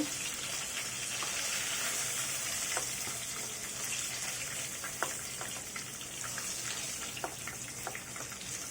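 Rohu fish pieces frying in a pan of oil, a continuous close hiss with faint crackles and occasional light spatters, no voices.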